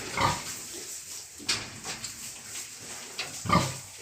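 Several short piglet grunts come in scattered bursts over a steady background hiss, fairly close and moderately loud.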